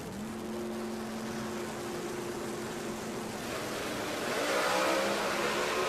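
A Pro Mod drag racing car at a drag strip makes a steady broadband engine roar with a sustained tonal drone, swelling louder toward the end as it launches down the track.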